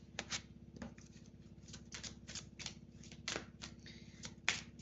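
A deck of tarot cards being shuffled: quiet, close, crisp riffling and flicking in irregular bursts, with no talking.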